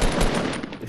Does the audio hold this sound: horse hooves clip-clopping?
no